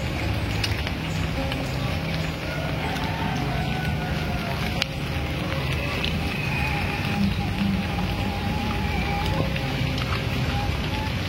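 Rain falling outdoors during a village home-cooking meal, heard as a continuous, even hiss of drops on surfaces that fills the whole stretch at steady loudness.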